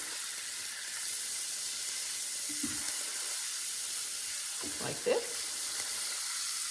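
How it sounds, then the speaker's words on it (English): Garlic and roast beef frying in a pan, a continuous soft sizzle with a couple of brief stirring scrapes, and a few quiet spoken words. "Now we're going to stir this up."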